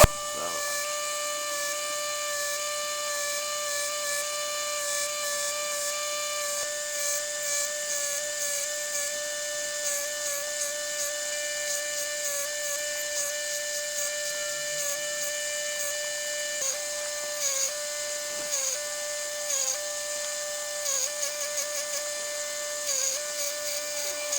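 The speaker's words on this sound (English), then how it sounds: "Let's get started grinding." Steady high-pitched whine of a grinder working a steel skinner knife blade, sustained and even for a long stretch with small dips and catches as the blade is moved across the abrasive.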